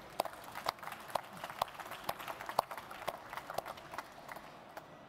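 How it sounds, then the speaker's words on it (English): Scattered audience applause at an automotive industry conference, a thin rhythm of distinct individual claps standing out over a softer background patter, fairly faint and tapering off toward the end. "Please, a round of applause."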